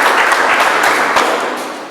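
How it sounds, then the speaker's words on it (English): An audience at a microservices tech conference bursts into loud, dense applause, a thick roar of clapping that holds steady and then begins to taper off. "can I have a round of applause for Danielle and Cameron?"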